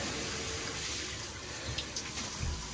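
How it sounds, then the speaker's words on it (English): A rainfall shower head combined with a handheld sprayer runs water in a steady, close hiss, with a few faint knocks and splashes near the end. "if you twist it like this, and then boom, water comes out that way"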